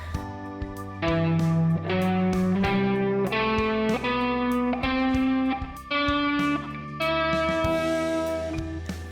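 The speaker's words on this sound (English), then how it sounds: "So that is your natural minor pattern, which is your Aeolian mode." An electric guitar with distortion and effects steps through a natural minor Aeolian scale pattern, playing distinct sustained notes one after another over about nine seconds, loud and close with no talking.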